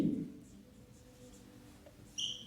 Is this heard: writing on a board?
yes